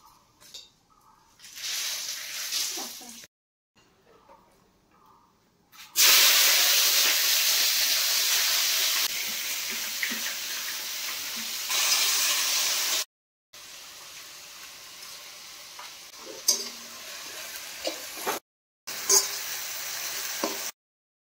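Cinnamon sticks and bay leaves hit hot oil with a loud, steady sizzle and hiss that runs for several seconds, set between quieter cuts of kitchen background and brief stirring.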